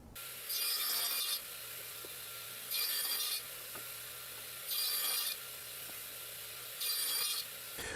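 Aromatic cedar wood is sawn lengthwise in four quiet, evenly spaced rasping strokes, each lasting about a second, with near silence between them.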